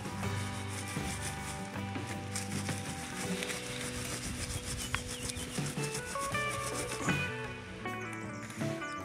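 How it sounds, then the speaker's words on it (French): A grill is scrubbed clean with repeated rapid rasping strokes, a close, busy back-and-forth rubbing with scraping and small knocks that continues throughout. "La grille, on va la nettoyer aussi. On nettoie comme ça."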